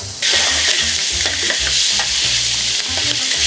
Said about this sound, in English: You will start to hear the squid will start to crick, crick, crick, crick, crick a little bit on your pan